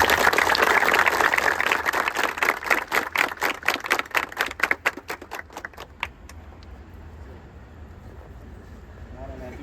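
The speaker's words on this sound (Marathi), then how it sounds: "आपण नक्की त्यांना शुभेच्छा देऊया टाळ्या वाजून" Applause from an audience cheering on a sports club at a practice visit: dense, loud clapping that thins into scattered claps and fades out after about six seconds, leaving quiet room noise.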